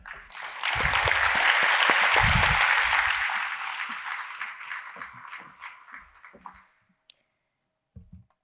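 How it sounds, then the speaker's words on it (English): An audience applauding at a scientific meeting, a burst of many hands clapping that swells quickly, holds for a few seconds, then tapers off into scattered claps and a final lone click. "Let's show appreciation with another round of applause."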